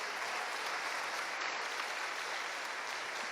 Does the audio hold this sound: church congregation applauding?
yes